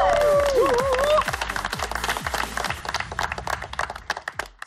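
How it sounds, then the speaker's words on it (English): Audience applause on a television presentation show, loud and dense with a whistle and cheering at the start, then thinning into scattered claps that fade out. "give them a great round of applause"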